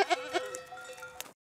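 Goats grazing on open Spanish land used for wildfire prevention bleat several times in quick succession, close and clear, with faint bell-like tones in the background before falling silent.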